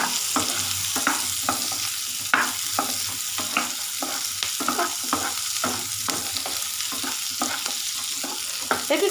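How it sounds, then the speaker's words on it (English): Cashews fry in a gravy with a continuous close sizzle, punctuated by regular rhythmic stirring strokes scraping the pan. "Let it fry a bit."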